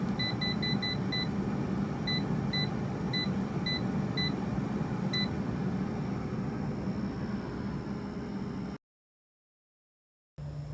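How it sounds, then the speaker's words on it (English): Air fryer that has finished cooking tortilla chips, its fan humming steadily while a series of short, high electronic beeps sounds in small groups, then a brief silence once it stops. "Now the air fryer is done cooking"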